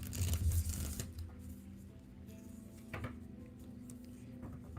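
A deck of Lenormand cards is shuffled by hand: a brief, papery riffling burst at the start, then softer rustling and handling noise, fairly quiet and with no talking.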